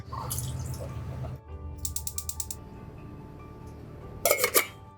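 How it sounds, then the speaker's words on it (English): Water runs from a tap into a pot for cooking haggis aboard a canal boat, with short bursts of splashing and a few quick drips or clinks between quieter stretches. "I'm going to fill this with water."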